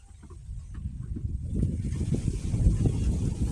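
Strong wind roars and buffets the microphone, growing louder and gustier after the first second, with deep rumbling low-end turbulence throughout.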